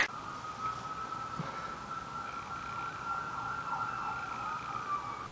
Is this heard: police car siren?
yes